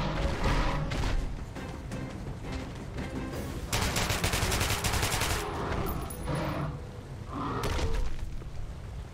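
Heavy bursts of automatic gunfire in Metro Last Light Redux, loud and continuous with dense rattling volleys that swell and ease in waves across the whole span, punctuated by sharp impacts.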